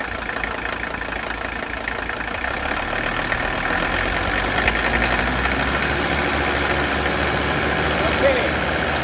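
Mercedes 300TD wagon diesel engine idling close by with injector nailing, a steady rough clatter and knock that holds evenly throughout.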